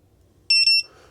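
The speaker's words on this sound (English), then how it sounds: "What this is, it's a beeper" An FPV drone's GPS beeper gives a loud, close, high-pitched electronic beep pattern of two quick pulses in a short burst, then fades to a faint tone.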